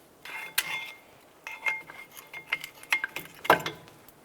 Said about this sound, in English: Let's go ahead and remove our brake pads.